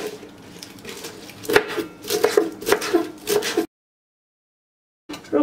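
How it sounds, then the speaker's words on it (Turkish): Arugula being chopped with a knife on a board for a simple green salad, a run of close, crisp rhythmic cuts followed by a short pause and a few more strokes. "Şimdi rokayı doğrayacağım."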